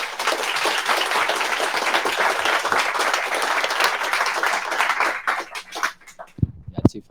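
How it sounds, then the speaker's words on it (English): Audience applause for two speakers at a green tech open source meetup, a steady dense wash of clapping that thins out and trails into a few scattered claps near the end. "A round of applause for fielding those questions."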